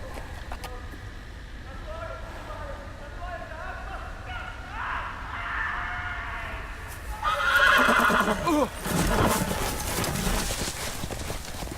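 A horse whinnies loudly amid ambience and hoofbeats in the game Game of Thrones by Telltale, with a burst of louder activity toward the end.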